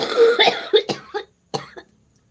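A close, harsh fit of coughing, several rough bursts in quick succession, then a pause and two more coughs before quiet.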